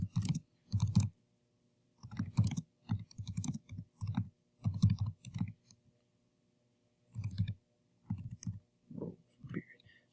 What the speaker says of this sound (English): So now I can type in all these answer choices